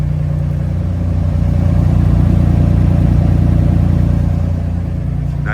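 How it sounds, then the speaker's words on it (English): A 1953 Chevrolet Bel Air six-cylinder engine runs close by, a steady low idle that rises into a smooth rev in the middle and then settles back down, with no one talking. "Nice sound for a 6-cylinder."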